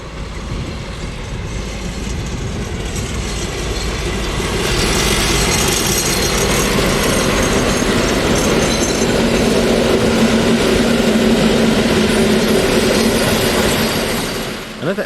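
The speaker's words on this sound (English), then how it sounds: "A pair of SU45 top and tail this train from Chev." A train hauled top and tail by a pair of SU45 diesel locomotives passes, with steady rumbling wheel and engine noise that swells midway and holds loud and close for several seconds before easing.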